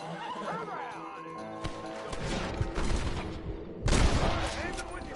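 Rapid gunfire in the Western video game Red Dead Redemption, a burst of loud cracking shots mixed with horse whinnies and galloping, with a voice speaking over the action.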